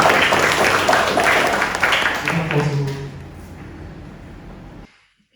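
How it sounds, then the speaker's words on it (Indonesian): Audience applause welcomes a Buddhist nun speaker at a morning dharma talk, a steady broadband patter that thins out and fades to silence after about five seconds, with some voice mixed in. "mari kita sambut dengan tepuk tangan yang meriah"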